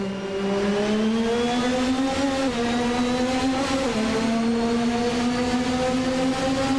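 A 1988 McLaren MP4/4 race car launches off the line in a racing video game, its engine a loud, steady high-pitched whine that rises in pitch, dips briefly at each gear change and climbs again. No one speaks.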